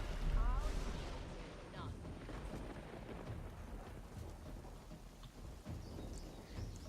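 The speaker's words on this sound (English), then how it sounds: "maybe use rain back here." Rain spell with thunder in the video game Divinity Original Sin 2, a deep rumbling thunder boom up front, then steady hissing rain and scattered low rumbles continuing throughout.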